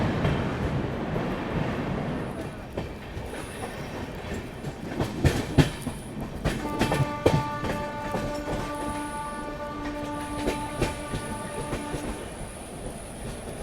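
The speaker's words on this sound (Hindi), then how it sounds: "ये जो आप हॉर्न सुन रहे हो ना, ये जा रही है आपकी हावड़ा पुरुलिया सुपरफास्ट।" The Howrah–Purulia Superfast passenger train rolls past with rumbling wheels and clattering rail noise, then a long sustained horn sounds over it, fairly close and loud.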